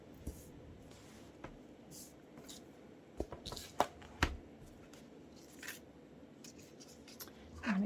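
Paper art ephemera for a collage being cut out, soft snips and crisp paper rustles close by, scattered in short irregular bursts against a quiet room.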